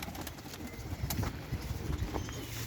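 Soft, low cooing from a Perdeli Irak tumbler pigeon sits under steady background noise, with a few brief higher chirps and rustles over a few seconds.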